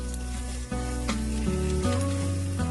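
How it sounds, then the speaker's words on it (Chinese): Duck meat stir-frying over high heat in caramelized sugar, a steady loud sizzle with occasional scraping stirs, continuous throughout with no talking. "大火炒至鸭肉上色， 让每块鸭肉都裹上糖色，并且炒干水分"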